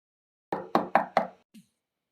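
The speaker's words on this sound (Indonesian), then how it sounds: "Terdengar suara pintu kamarku diketuk-ketuk" Four quick knocks on a bedroom door in steady rhythm, close and fairly loud, followed by a faint brief thud, with no talking.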